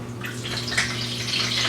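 Broth for tamale masa being poured into a pot in a home kitchen, a steady close splashing pour of liquid running continuously without pause, with no voices.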